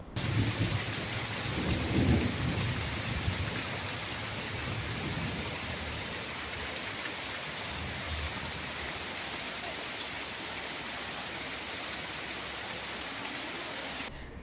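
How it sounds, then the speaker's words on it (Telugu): Steady rain showers fall during an evening storm near Nellore, a dense continuous hiss of drops with low rumbling thunder rolling through the opening seconds. "ఇవాళ సాయంత్రం ఒక్కసారిగా మారి చల్లబడింది చెదురుముదురు జల్లులు పడ్డాయి"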